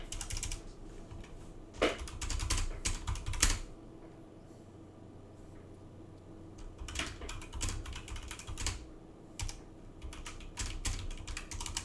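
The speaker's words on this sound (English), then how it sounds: "And let me just type a sentence." A mechanical keyboard with key chatter is typed on in two bursts of rapid clicky keystrokes separated by a quieter pause, close and crisp with no talking.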